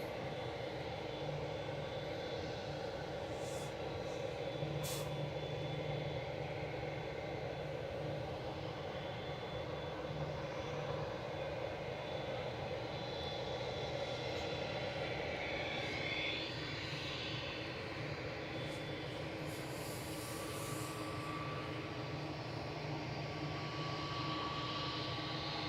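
An airliner taxies out at Manchester Airport, a steady distant jet engine hum and whine holding throughout, faint and continuous with no talk.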